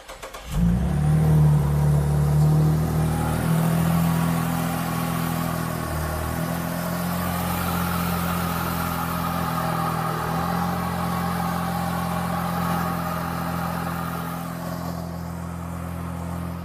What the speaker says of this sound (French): Démarre le moteur.